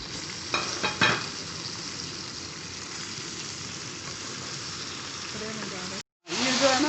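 Tomatoes fry in a pan for Sindhi biryani, giving a steady, close sizzle with a few stirring clatters near the start. The sizzle cuts out briefly near the end, then returns.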